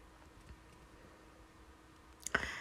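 A single sharp computer mouse click near the end, preceded by near silence with a faint tap, close and crisp against a quiet room.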